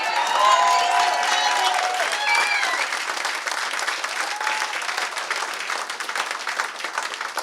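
A town hall crowd at a Republican Senate candidate's rally in Kingston, New Hampshire applauds loudly and steadily, with dense clapping that fades slightly toward the end.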